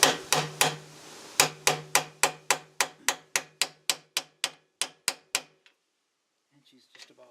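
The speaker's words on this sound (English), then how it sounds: "In this case, it's just a little 8-ounce hammer." A small 8-ounce hammer taps an oil seal into a classic Mustang 8-inch rear axle in a steady series of about twenty sharp, ringing strikes, evenly spaced, then stops; a faint clink follows after a short silence.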